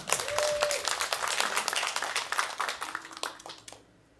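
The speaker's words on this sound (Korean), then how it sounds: "큰 박수로 모시겠습니다" Audience applause at a brain-education symposium welcomes a presenter to the stage: dense, steady clapping that holds for a few seconds, then quickly fades out near the end.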